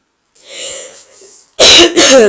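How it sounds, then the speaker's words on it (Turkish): Two loud, harsh coughs burst out close to the mic, preceded by a softer throat-clearing rasp. "Çok nazik öksürüyorum ya."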